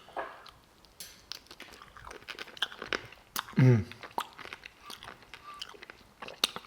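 Crisp crunching bites and chewing of crunchy fermented cabbage with chili, close to the mouth, with one louder crunch midway and faint background noise between chews.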